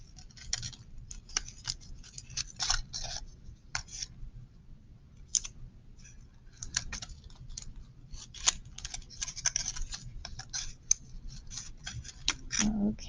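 Paper strips taped together for a paper roller coaster loop: a close, steady series of crisp snips, tape rasps and paper rustles in short bursts, with no talk.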